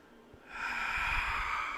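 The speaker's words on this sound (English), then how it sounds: "I have a feeling this microphone is picking up all my heavy breathing." Heavy breathing during a yoga session, a close, steady breathy exhale that swells after a brief quiet start and holds for over a second.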